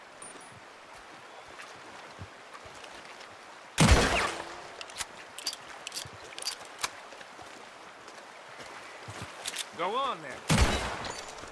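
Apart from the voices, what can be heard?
gunshot shooting off a lock in video game Red Dead Redemption 2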